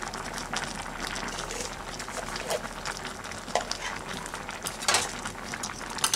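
Bottle gourd leaf and stem curry with turmeric and salt is stirred in a cooking pot, with continuous bubbling and sizzling broken by occasional sharp clinks of a utensil against metal.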